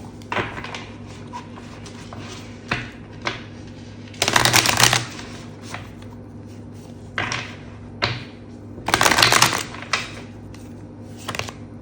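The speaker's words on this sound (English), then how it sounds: "do a good hard shuffle." A tarot card deck gets a hard shuffle, with two loud riffling bursts standing out among softer card taps and handling clicks, close up and without speech.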